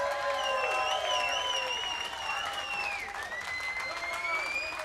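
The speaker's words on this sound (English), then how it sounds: "give yourselves a big round of applause for supporting your local hospital" Concert audience applauding and cheering at a local hospital benefit show, a broad steady wash of clapping with sustained whistle-like tones and voices drifting above it throughout.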